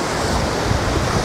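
Stormy sea waves at Vityazevo near Anapa crash and wash in a loud, continuous surf roar close by, with a touch of wind and no talking.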